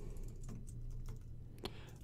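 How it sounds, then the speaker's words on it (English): Quiet keystrokes on a computer keyboard while entering a query, a few scattered soft clicks with one slightly sharper tap, faint and close against low background hiss. "we're just gonna go ahead and type in query here"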